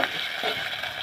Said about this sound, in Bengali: পেঁয়াজের সাথে চিংড়ি মাছটা ভেজে নেব লাল লাল করে।